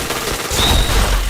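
Rapid gunfire in the online shooter PointBlank, a dense crackling fusillade of shots with a booming low end, loud and close over just over a second.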